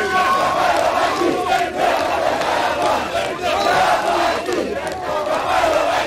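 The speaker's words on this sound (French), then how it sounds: "le président de la République démocratique du Congo s'est offert un bain de foule animé par ses compatriotes vivant à N'Djamena" A large crowd of Congolese compatriots cheers and shouts to welcome the president of the Democratic Republic of the Congo at the airport in N'Djamena, a loud, sustained roar of many voices with rising calls and chants.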